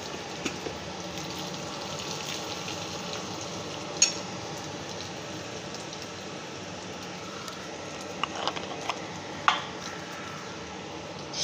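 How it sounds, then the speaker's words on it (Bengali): Ginger paste frying in oil in a pan, giving a low, steady sizzle throughout with a few sharp clicks and pops now and then. "আদাটা ভালো করে ভাজতে হবে, কাঁচা গন্ধ চলে না যাওয়া অবধি"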